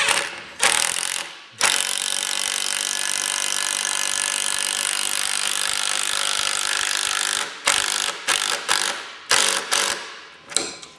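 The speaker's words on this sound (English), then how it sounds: "driving these 2 3/4 inch construction screws is not a problem at all" A Makita power driver drives 2 3/4 inch construction screws into wood on a 1985 Sylvan boat project, one long loud whirring run followed by several short bursts and stops, close up with no talking.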